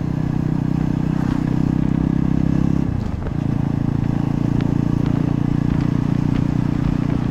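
Steady, close drone of a motorcycle engine cruising along a road toward Kathua, Jammu and Kashmir, easing off briefly midway before settling back into a constant hum.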